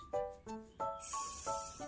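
A child imitates a snake, voicing short tonal calls and then a long, steady breathy hiss that runs to the end, close and moderately loud.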